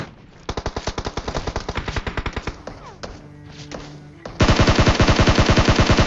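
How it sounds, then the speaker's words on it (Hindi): Rapid bursts of DP machine gun fire in a PUBG-style battle on a bridge, loud and close, a steady rattling string of shots that breaks off and then returns as a denser, louder volley. "यहाँ पर जो आपको DP का जो बुलेट ड्रॉप होता है वो देखने को मिलेगा।"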